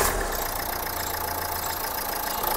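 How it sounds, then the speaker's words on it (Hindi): A used 2015 110 PS car engine idles with a steady mid-to-low rumble, running evenly and close without talk over it. "आपको ये भी गाड़ी स्टार्ट इंजन के साथ देखिए अब होने वाली ये गाड़ी हमारी स्टार्ट"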